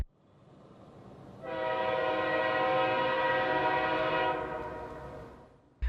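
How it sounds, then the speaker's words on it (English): A northbound train rumbles through town at Folkston, its horn sounding one long, loud, steady blast of about three seconds over the rolling rail noise. "A half hour after catching the first train, another northbound comes into town."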